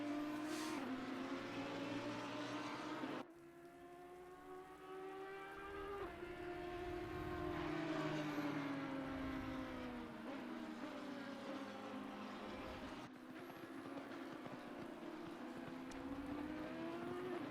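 A race car laps a circuit in a racing video game, its engine whining steadily up and down through gear changes, rising and falling in pitch, faint and continuous with no talk.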